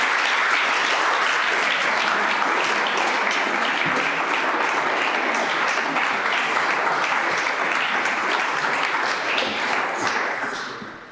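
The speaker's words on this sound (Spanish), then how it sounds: "Un aplauso, ¿no?" A book-presentation audience applauds at length, dense loud clapping holding steady throughout and tailing off only at the very end.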